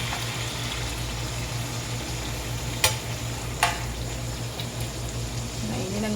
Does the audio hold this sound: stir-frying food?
yes